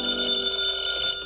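An old telephone bell ringing in a radio comedy set in a tavern, a steady continuous metallic ring, close and alone for just over a second.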